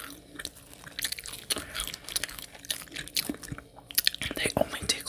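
Crunchy bites and moist chewing of cheesy breadsticks, eaten close to the mic in a quiet room, with sharp crackles and soft mouth sounds repeating irregularly throughout.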